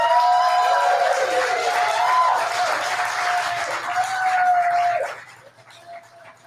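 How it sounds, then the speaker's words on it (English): A live studio audience in Salt Lake City claps and cheers with a few whoops for a comedy newscast, loud at first, then dying away after about five seconds to near quiet. "Would you please give us a round of applause?"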